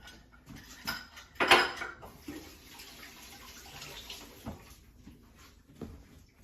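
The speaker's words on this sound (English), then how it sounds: "make sure you get all of your honey in there and mix all this together." Honey is mixed into chocolate cake batter in a bowl, with soft clinks of a utensil against the bowl, one louder scraping clatter early on, then quieter irregular stirring knocks.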